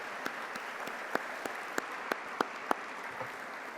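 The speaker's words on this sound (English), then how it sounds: "Yeah, that's worth an applause." Scattered applause at an annual business meeting: a quiet bed of clapping with a few louder, distinct individual claps spaced roughly evenly, fading toward the end.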